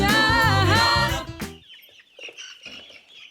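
Brahma chickens give a loud, close squawking cluck, then quieter scattered chirps and clucks trail off in a pasture setting.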